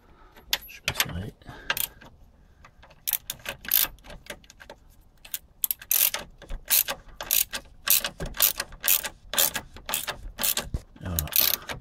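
A ratchet wrench tightening the track bar bolt on a Jeep XJ, with clear rhythmic clicking strokes close by, faint at first and then in steady repeated bursts, alongside some metallic clinks and faint background talk.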